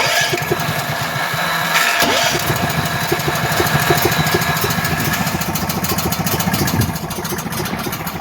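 A Duramax 8500 dual fuel portable generator engine runs steadily at close range, its pulsing mid-range drone shifting pitch as the throttle is adjusted, with a brief change in tone partway through and no talking.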